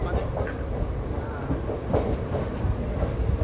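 A local train pulls into a crowded Hyderabad-area station near Lingampally, a continuous rumbling roar of wheels and carriages with faint clacks, filling the whole stretch with steady, loud noise.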